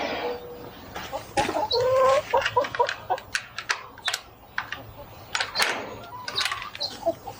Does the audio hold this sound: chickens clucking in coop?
yes